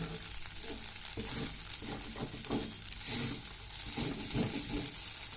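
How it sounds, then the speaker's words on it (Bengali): Flattened rice pulao (poha) cooking in ghee in a pan on low heat, with a steady sizzle and fry under repeated scraping stirs of a spoon, close and continuous. "একটু ঘি দেব, ঘিটা ভালো করে মিশিয়ে নিতে হবে।"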